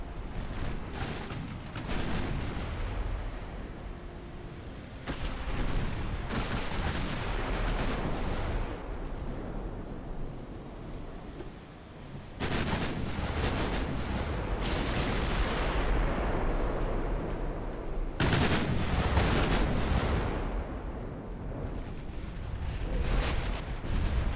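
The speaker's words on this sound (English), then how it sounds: "Oh, here come more shells." Naval artillery shells firing and exploding in a warship battle video game, a dense continuous barrage of booming blasts with several louder salvos, heard close and without talk.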